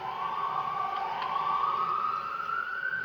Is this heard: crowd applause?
no